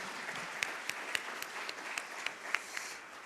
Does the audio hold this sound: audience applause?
yes